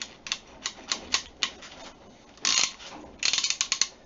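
A Möller socket wrench ratchet clicks close up, a series of crisp, evenly spaced pawl ticks followed by two faster, denser bursts of rattling clicks, quiet and alone.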